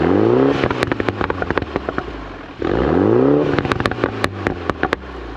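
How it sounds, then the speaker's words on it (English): A Mini John Cooper Works fitted with a stainless steel catback exhaust revs up twice, each sweep rising loud and close and followed by sharp crackles and pops as the revs fall off. "this owner installed an NVIDIA stainless steel catback exhaust"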